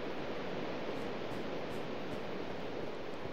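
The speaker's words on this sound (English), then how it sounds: "complete with a vertical waterfall" Steady broadband rush of a vertical indoor waterfall beside a boxing and wrestling mat, a continuous even hiss of falling water with no talk over it.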